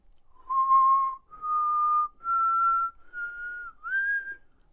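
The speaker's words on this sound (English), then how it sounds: "if you do something like whistle, you'll see it fairly clearly" A person whistles a clear, steady tone in five sustained notes with short gaps, the pitch stepping slightly higher toward the end, heard alone and close.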